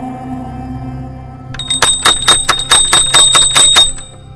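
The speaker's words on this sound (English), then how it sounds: "the landlord was awoken, suddenly, by the rapid clanging of the bell" A bell rings in a rapid run of about ten sharp, bright strikes. It is loud and close, and it follows a few seconds of low hum.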